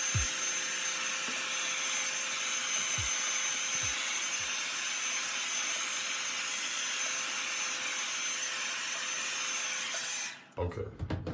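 A hair dryer blows out natural black hair with a steady, close whooshing roar that runs unbroken for about ten seconds, then cuts off abruptly.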